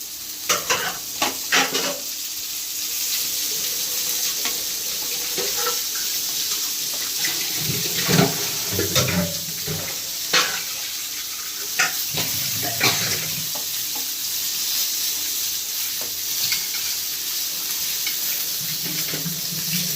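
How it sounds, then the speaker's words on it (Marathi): Bombil (Bombay duck fish) frying in a pan, giving a continuous sizzle with scattered clinks and scraping stirs throughout, close and steady without speech. "अशा प्रकारे आपले बोंबील सगळे पॅनमध्ये टाकून झालेले आहेत"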